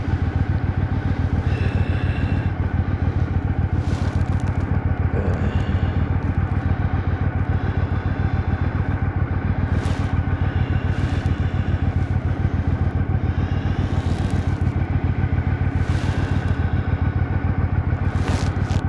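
A motorcycle rides along an open road, a loud, constant engine drone and buzzing vibration with wind rush, sustained evenly throughout from the rider's position with no talk.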